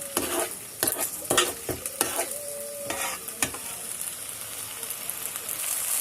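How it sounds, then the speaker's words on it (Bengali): Rice and lentils being stirred into fried, cooked-down spices for bhuna khichuri: a soft sizzle with repeated scraping and clinking strokes of a spoon against the pot, close and fairly quiet, no talking. "এখন কষানো মশলার মধ্যে চাল আর ডাল দিয়ে কিছুক্ষণ নাড়াচাড়া করবেন।"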